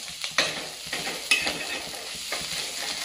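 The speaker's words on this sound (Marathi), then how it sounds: "बघा आता ही भाजी आपण जी पिळून घेतली होती ही भाजी टाकून घेऊ." Squeezed kurdu, a wild leafy vegetable, goes into a hot pan and is stirred, giving a soft sizzle under a few sharp spatula scrapes and knocks at irregular intervals, close by.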